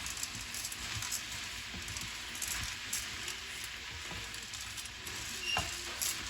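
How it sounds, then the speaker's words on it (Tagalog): Soup being stirred in a pot, a steady wash of sizzling and bubbling with soft scraping strokes throughout, close and fairly quiet, no voices. "Haluin lang."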